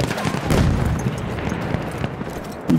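Gunfire and explosions in the video game Battlefield 1: rumbling booms and crackling bursts layered into a continuous battle din, loud and close.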